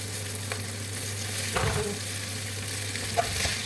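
Indomie instant noodles stirred and mixed in a pan make a quiet, steady frying sizzle with a couple of soft utensil knocks, close by and without speech.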